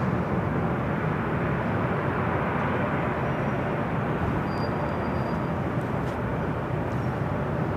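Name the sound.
Delta Airlines Boeing 757-200 flying over at LAX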